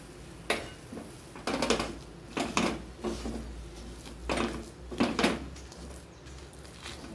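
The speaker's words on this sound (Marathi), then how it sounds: "अशा प्रकारे पुरण परतायचं काम चालू आहे आपलं." Puran, a sweet lentil filling, being stirred and sautéed in a pan gives scattered scraping and knocking clatters of a utensil against the pan at an irregular pace, fairly close and moderately loud, with no talking.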